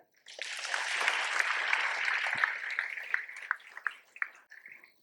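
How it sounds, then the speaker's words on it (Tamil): An audience applauds at an inspirational speech event, with a dense wash of clapping that holds steady for several seconds and then thins into scattered, separate claps before stopping, heard at a moderate distance. "ஸோ 3 பேருக்கும் சூப்பராக கைத்தட்டுங்க"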